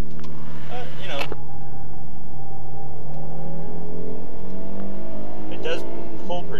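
Mercedes GLK 350 4MATIC SUV accelerates out of a corner with a close, rising engine tone that climbs through the revs, while someone talks over it.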